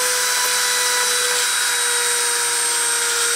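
Machine spindle switched on and running as a steady, continuous high-pitched whine with sustained tonal hum throughout, fairly loud and without pauses.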